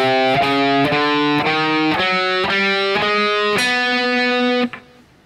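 A distorted electric guitar plays the last bar of a song, a loud series of evenly spaced picked notes and chords in steady rhythm that rings out briefly before being cut off.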